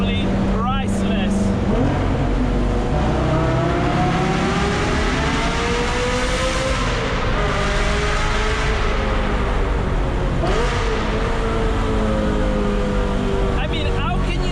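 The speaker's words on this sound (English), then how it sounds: "Driving a straight pipe, net-aspirated Ferrari in a tunnel is simply priceless." Straight-piped, naturally aspirated Ferrari F355 engine echoing in a tunnel, heard from the driver's seat: a loud, continuous high-revving wail climbing and falling through the gears for the whole stretch.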